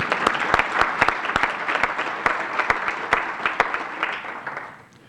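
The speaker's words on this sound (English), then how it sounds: "let's give him an applause that he can hear outside" A luncheon audience applauds a guest, brisk clapping with distinct sharp individual claps over a dense wash, fading out near the end.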